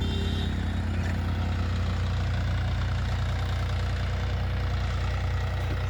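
A John Deere 5305 tractor engine idles steadily with a deep, even low rumble and a faint rhythmic knock, close by and fairly quiet, with no talking over it.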